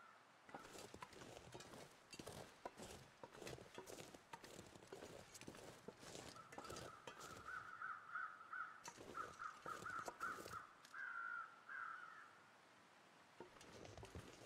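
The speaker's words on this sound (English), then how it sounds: "That's what the weather crows are saying." Crows caw in a repeated rhythmic series in the survival video game Interloper, fairly faint over a steady outdoor ambience with footstep-like crunches.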